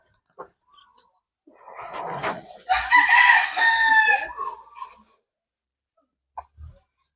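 Chickens on a small farm in the Philippines give a few soft clucks, then a rooster crows one loud, drawn-out call, followed by quiet scattered clucking.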